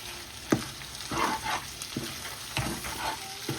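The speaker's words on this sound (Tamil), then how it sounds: "இதோட கொஞ்சம் தாளிகள் பொரிஞ்சு வந்தனைக்கு நாங்கள் வெயிட் பண்ணணும்" Mustard seeds and curry leaves splutter in hot oil for a squid curry, a close crackling sizzle broken by scattered pops and spoon stirs, with no voices.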